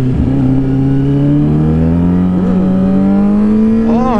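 A car engine revs and rises steadily in pitch, loud and close, as the vehicle pulls an on-ramp wheelie, with a brief warble midway and a sharper rev at the end.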